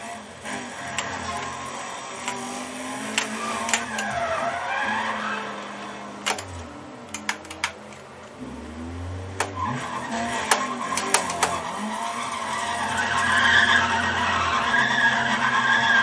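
Racing video game car driving with engine drone and repeated tire skids and squeals, played loud through computer speakers with steady noise throughout.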